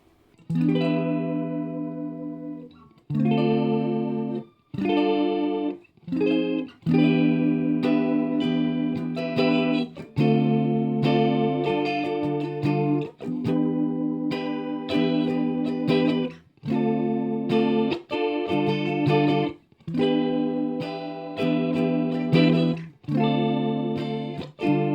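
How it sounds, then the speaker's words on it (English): Electric guitar played through an Arachnid effects pedal with chorus engaged, strumming loud, shimmering sustained chords in choppy phrases separated by short gaps, alone with no voices. "And something we haven't seen yet is the chorus sound."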